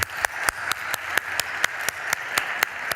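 An audience applauds a quiz winner from the crowd at a live event, with a steady wash of clapping and sharp individual claps standing out at a regular, close, moderately loud pace, and no voices.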